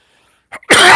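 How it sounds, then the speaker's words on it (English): A man coughs close by: a short hack, a brief pause, then a loud, harsh burst of coughing that fills the end of the moment, with no talking. "if I keep coughing like this"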